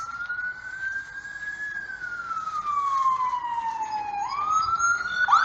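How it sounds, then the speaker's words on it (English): A wailing emergency siren sweeps slowly up and down in pitch, steady and fairly distant, over low outdoor background rumble. "I hear the sirens"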